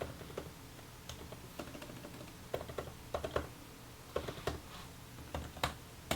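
Quick, irregular clicking of keys being typed on a laptop keyboard, with crisp taps and occasional heavier presses close to the microphone, no voices.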